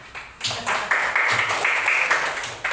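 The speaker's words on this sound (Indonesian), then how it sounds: "beri tepuk tangan untuk kelompok bunga kenangan" A class of students applauding a student group at a school lesson, with modest, fairly close handclaps coming in uneven waves and a little background murmur.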